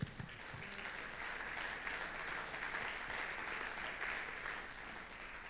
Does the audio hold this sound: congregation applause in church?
yes